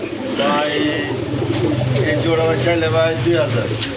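A pair of pigeons, male and female, coos in low rolling phrases close by while people talk over them throughout.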